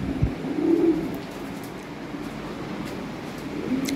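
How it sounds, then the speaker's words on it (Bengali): Lahore pigeons, a sold pair of fancy breeding birds, coo in soft low repeated phrases close by, with a steady background murmur. "খুব ভালো এক পেয়ার কবুতর"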